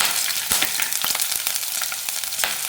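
Crushed garlic, ginger and slit green chillies fry in hot coconut oil for a crab masala, a dense, close, steady sizzle with scattered crackles and a few stirring scrapes.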